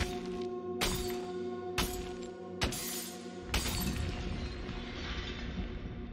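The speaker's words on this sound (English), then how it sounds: "The shattering of the crystal caused tremors in the underworld." A crystal shatters in the roguelike video game Has-Been Heroes, heard as four sharp glassy smashes in quick succession over a steady musical hum, the last breaking into a long, bright ringing decay.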